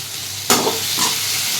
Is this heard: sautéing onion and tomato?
yes